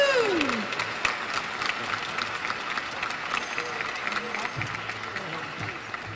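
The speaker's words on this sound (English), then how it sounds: "I would like to please a round of applause for what Linda does" A crowd at a banquet applauds steadily, sustained clapping from many hands, with voices and scattered cheers mixed in.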